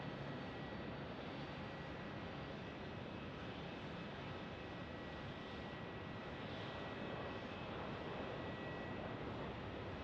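Airplane landing at Phoenix Sky Harbor airport, a continuous loud broadband engine roar holding steady throughout, without speech.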